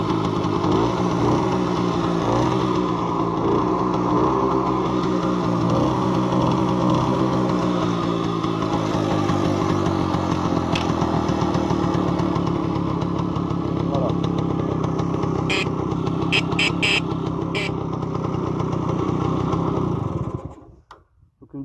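A 1957 Gitane S98 motorcycle engine running steadily at a close, loud idle with a buzzing single-cylinder rhythm, a few clicks late on, then cutting off abruptly at the end; someone speaks over it.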